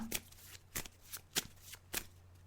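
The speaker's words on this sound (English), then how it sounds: "So I'm just shuffling the cards now." Tarot cards being shuffled by hand, a series of crisp riffling bursts spaced roughly half a second apart, close and quiet with no talking.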